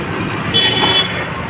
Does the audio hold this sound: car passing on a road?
yes